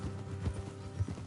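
Horse hooves clip-clop on a road in the video game Red Dead Redemption 2, a soft, quick run of overlapping hoofbeats at low level with a faint background bed.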